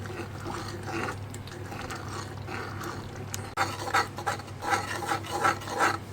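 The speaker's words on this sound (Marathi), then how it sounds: "मध्ये मध्ये हलवत रहा मसाला." Masala stirred in a pan over medium heat, with a soft sizzle under repeated scraping strokes of a spoon against the pan that grow louder and more rhythmic in the second half.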